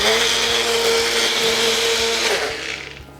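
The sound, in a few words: mixer grinder blending spice paste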